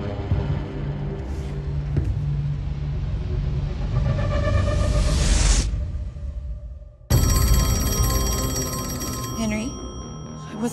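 A telephone rings in a dramatic thriller scene, its bell tone buzzing over low rumbling music, cutting out briefly, then returning as a bright, sustained ring.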